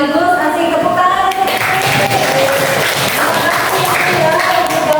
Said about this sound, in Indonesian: Deg-degan sekaligus asik tepuk tangan.